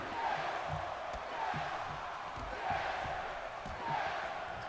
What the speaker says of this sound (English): Crowd's well awkward when they do that.